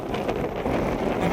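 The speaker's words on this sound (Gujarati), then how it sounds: "હવા પણ જે આવે છે તમને અત્યારે ખબર પડતી હશે પાછળથી કે હવા કેવી જોરથી આવે છે" Strong wind on a green roadside route toward Dumas buffets the microphone with continuous rough, blustery rumble for a short moment.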